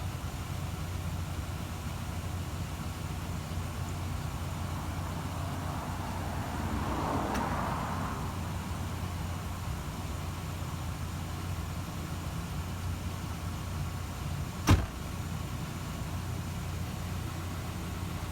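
A Rover 25 runs at idle with its air conditioning on maximum: a low, even engine hum under a steady blowing hiss, broken only by a faint swell midway and one sharp click near the end.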